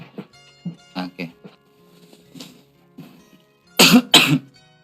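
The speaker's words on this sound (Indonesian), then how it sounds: "Batuknya aku ini." A person coughs in a quiet room: a few scattered light coughs and throat sounds, then two loud, close, harsh coughs in quick succession near the end.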